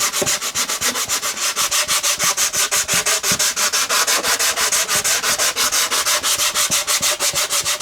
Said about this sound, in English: sand that now, in fact, let's use the sanding bar so it's easier.